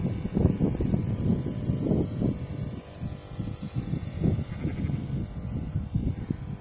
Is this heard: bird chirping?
no